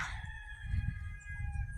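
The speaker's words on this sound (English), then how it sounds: "I don't know if you can hear the neighbor's rooster, but he crows and then Franklin crows." A single rooster crows, a drawn-out call heard from some distance, faint against low background rumble.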